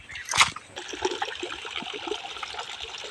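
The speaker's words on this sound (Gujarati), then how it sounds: "આ છે પશુઓને પીવા માટે પાણીનું નાનકડું એવું ઝરણું" A small stream of water flowing for cattle to drink, trickling and splashing steadily and close by, with a brief louder splash at the start and no talk.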